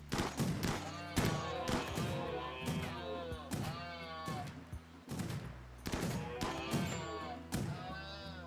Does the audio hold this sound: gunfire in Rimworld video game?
yes